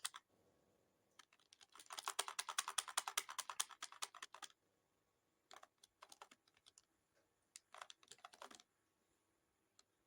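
Computer keyboard keys clatter as code is deleted in an editor: a dense fast burst of typing, then a pause and several shorter clusters of quiet, close keystrokes in an otherwise silent room.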